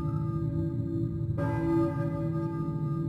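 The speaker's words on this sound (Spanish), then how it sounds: "Las campanas. Nos estamos cambiando de mundo." A loud bell tolls suddenly partway through a dark, droning ambience in the PlayStation game Silent Hill, ringing out over the steady hum as the world shifts.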